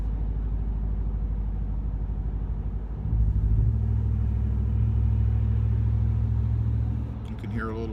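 A motorcycle fitted with a Carven progressive exhaust rumbles at road speed, then its engine note deepens and steadies as it accelerates, with heavy wind noise and no talk.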